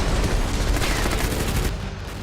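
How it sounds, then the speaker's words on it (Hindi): Gunfire and blasts from a Russian attack in Ukraine form a dense, loud, continuous barrage of overlapping shots and rumbling booms with no pauses. "जमीन और हवा से विस्फोट कर रूसी सेना यूक्रेन की धरती को इसी तरह दहला रही है"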